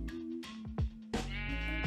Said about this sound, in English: This black sheep right here.